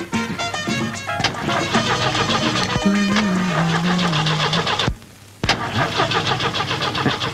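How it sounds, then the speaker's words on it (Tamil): A taxi car's engine cranks repeatedly and fails to catch, the starter churning loudly in uneven bursts, pausing briefly and then cranking again. "ஏப்பா டிரைவர், வண்டி எப்பப்பா ஸ்டார்ட் ஆகும்?"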